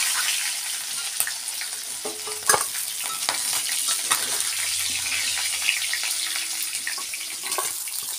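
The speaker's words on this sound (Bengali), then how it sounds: "মাথাগুলো ভাজা হয়ে গেছে, এবার আমি মাথাগুলোকে তুলে ফেলবো" Fish heads fry in hot oil for Bengali muri ghonto, a steady close sizzle broken by sharp clinks and scrapes of a utensil lifting the pieces from the pan.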